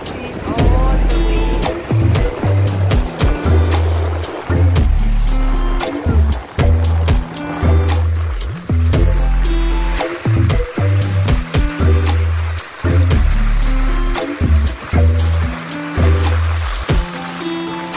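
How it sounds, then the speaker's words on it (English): Atlantic Ocean waves breaking on a Gambian beach beside a fish market with boats, a loud continuous surf roar with repeated crashes, and some voices in the background. "This is the ocean."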